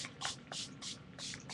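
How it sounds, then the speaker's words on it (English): Colored ink sprayed in pools onto a Prima Marketing mixed media album, four or five short hissing spray bursts in a steady rhythm, close and soft, with no talking. "I'm going to just, on this one, just spray different pools"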